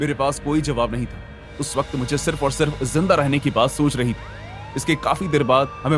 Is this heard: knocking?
no